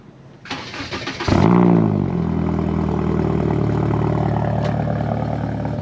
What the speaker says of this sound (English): Your exhaust literally sounds like an Evo.